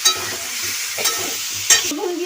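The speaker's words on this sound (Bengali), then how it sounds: "প্রথমে ভেজে নিয়েছি আলু বোনাকে কষানো হচ্ছে" Potatoes sizzle in a hot pan while being stir-fried for aloo dum, with repeated scraping strokes of a spatula over a continuous frying hiss.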